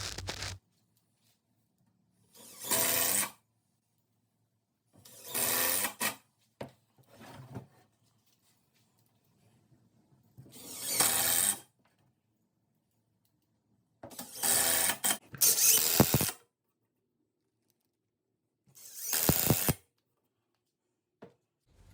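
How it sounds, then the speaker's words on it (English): Three-inch wood screws being driven into a wooden garage shelf frame, heard as about seven separate bursts of a power driver, each a second or so long, spaced by short pauses and close to the listener. "take some 3-inch wood screws and screw the frame together."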